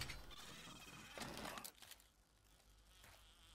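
Insect-like buzzing of zombie bees in the video game 7 Days to Die, a dense whirring drone that swells for about a second and a half, then thins to a quieter hum.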